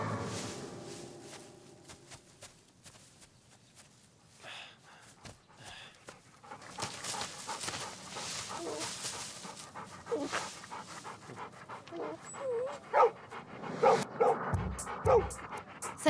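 A dog pants and snuffles close by, with soft whimpers and a few short yips that grow livelier toward the end, over faint background noise.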